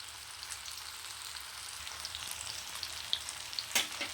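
Fish coated in chilli masala paste fries in a pan with a steady, soft crackling sizzle and a few sharper pops near the end.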